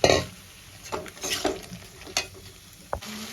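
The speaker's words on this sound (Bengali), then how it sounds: "এবার আমি ভেজে রাখা ঝিঙার আলুটা দিয়ে দেবো দিয়ে একটু কষিয়ে নেব" Ridge gourd and potato pieces are stirred and fried in a pan of spiced oil, giving scattered scrapes and clatters over a soft sizzle, with a sharp knock of utensil on pan near the end.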